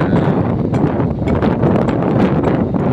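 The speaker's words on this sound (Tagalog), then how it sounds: "medyo malakas yung hangin dito sa area natin guys" Strong wind buffets an outdoor South Railway construction site in Sta Rosa, Laguna, a loud, continuous roar with gusting rumble and rustle across the microphone.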